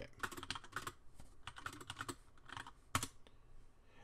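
Stats are typed on a computer keyboard, a close, quick run of light key clicks in uneven bursts with a sharper, louder keystroke near the end.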